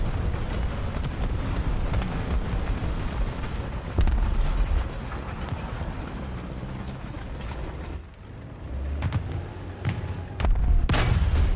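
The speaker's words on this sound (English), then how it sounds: "45mm cannon" Deep booming 45mm tank cannon blasts from a Soviet T-35 in War Thunder thump out at intervals over a continuous rumbling engine drone, loud and close, with a sharp final report.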